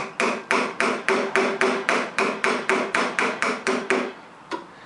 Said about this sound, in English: Okay, I started chiseling. I'm using a 1-inch chisel.